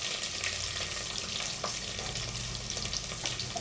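Chopped garlic and onion fry in a pan with a steady, dense sizzle and occasional stirring clicks, close and continuous without any talk.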